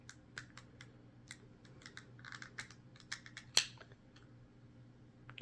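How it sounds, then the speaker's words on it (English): Plastic case of a 2016-2019 Ford Explorer key fob being pried apart by hand: a scattering of small, quiet clicks and plastic creaks, close up, ending in one sharper snap as the halves separate. "open the key fob, and we're going to do that by pressing this notch down and try to separate the key fob"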